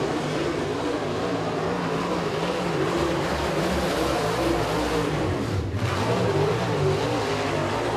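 A super late model race car roars around Eriez Speedway during a qualifying lap, its engine a loud sustained drone that rises and holds steady, with a brief dip partway through.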